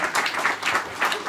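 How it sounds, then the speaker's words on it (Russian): Bursts of audience applause rise and fall at a stand-up comedy club show in Krasnodar, a loud, crowded clapping that swells in waves over just over a second. "И что это за аплодисменты"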